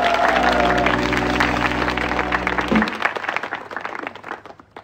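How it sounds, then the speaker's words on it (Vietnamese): Studio audience applause at a Vietnamese television game show, a dense steady wash of clapping beneath a sustained musical chord that cuts off partway, the clapping then thinning and fading toward the end. "một tràng pháo tay cổ vũ tinh thần toàn đội"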